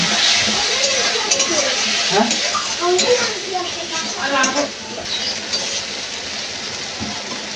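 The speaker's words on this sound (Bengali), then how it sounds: "এবার এগুলো ভালো করে কষিয়ে নেব" Ginger-garlic and ground spice paste frying in a pan for chicken kosha, stirred with a spoon: a steady sizzle with scraping and light clinks, under a person talking.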